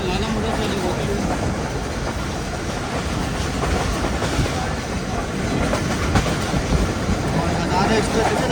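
A Pakistani express train runs at speed near Shorkot, filling the air with a dense, continuous rumble and rattling clickety-clack from inside the carriage, close and loud without letup.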